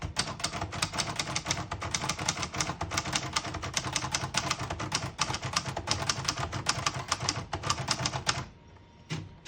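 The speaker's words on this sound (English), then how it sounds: "I'll type a sentence on the next line." Rapid, steady keystrokes from a 1968 Hermes Rocket portable manual typewriter, close and alone, a dense run of crisp clacks for about eight seconds before stopping.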